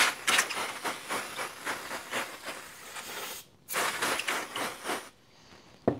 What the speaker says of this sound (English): it only took a bit of compressed air to remove all the dust